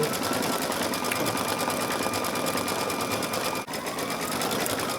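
An embroidery machine stitches a design with pink thread in a rapid, continuous mechanical chatter close by, with a momentary break near the end.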